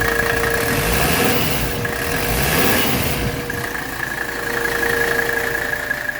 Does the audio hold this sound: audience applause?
no